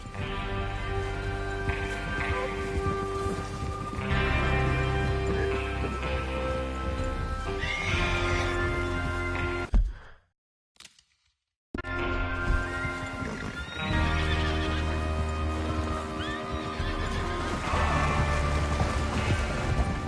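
Horses neighing and hooves clattering at a gallop in the video game Red Dead Redemption 2, loud and continuous, broken by a brief silence midway before the hoofbeats and whinnies resume.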